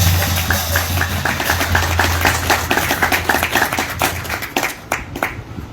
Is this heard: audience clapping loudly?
yes